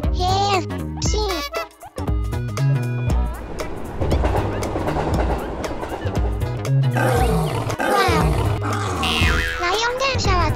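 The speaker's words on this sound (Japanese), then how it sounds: "ライオン電車は近づくと吠えるから気をつけてね" A cartoonish lion roar from a lion-shaped robot train in a children's animation rises over lively background music and sound effects, loud and close, with a child-like voice mixed in.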